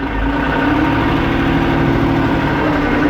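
A New Holland TT50 tractor engine runs loud and close during field plowing, holding a steady, even throttle for the full length with a deep constant drone and no talk over it.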